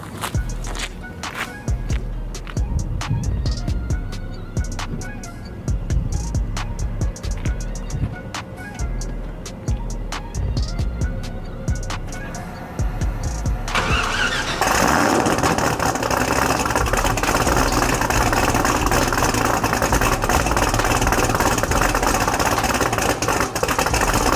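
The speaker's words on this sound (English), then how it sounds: "Alright, yeah, here's a cold start." A Cadillac CTS-V V8 fires up from a cold start, loud and close, settling into a steady, rumbling idle that grows denser and louder after the first stretch.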